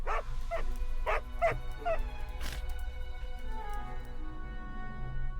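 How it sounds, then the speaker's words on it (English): A dog lets out a quick run of sharp barks and yips near the start, followed by a drawn-out whining note that fades under a low background hum. "you continue to hear the annoying bark"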